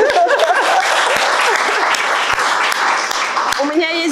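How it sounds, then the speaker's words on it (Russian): Steady, full applause from an audience at a marketing talk fills the whole stretch, loud and dense throughout, with a voice starting to speak just at the end. "как мне кажется, заслужили аплодисменты"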